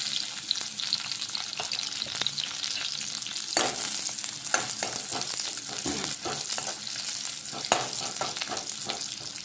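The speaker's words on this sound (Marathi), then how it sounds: "आपलं तेल गरम झालेलं आहे. इथे मी एक कांदा घेतला होता कापून, हा यामध्ये टाकायचा आहे." Chopped onion hits hot oil in a kadhai and fries with a loud, continuous crackling sizzle, punctuated by irregular clinks and scrapes as it is stirred.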